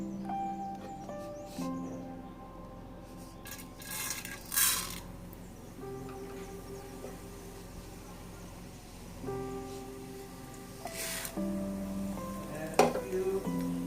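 Mustard seeds and split dal sizzling in hot ghee for a tempering, a continuous frying hiss with occasional stirring scrapes and a few sharp pops close by.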